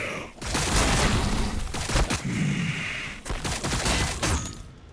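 Dense sustained gunfire effects roar through a tabletop Warhammer 40,000 battle between Necrons and Tyranids, loud bursts and volleys crackling continuously for several seconds with brief gaps.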